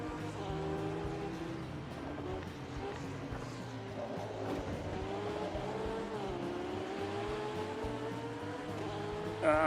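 A race car in a sim racing game drones along with a steady engine tone that rises and falls through gear changes, with a brief tire squeal at the end and a voice talking over it.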